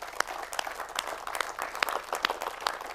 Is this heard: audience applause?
yes